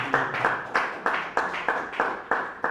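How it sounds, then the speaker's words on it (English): Applause for a professor after a forestry webinar presentation comes as an even, rhythmic run of about nine crisp claps, close and moderately loud, with no talking. "Let's clap for Prof for that wonderful presentation."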